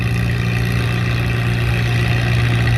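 An antique tractor engine in the 2500 to 3000 lb tractor pull class runs hard at full throttle, a loud, close, steady throaty drone with no letup.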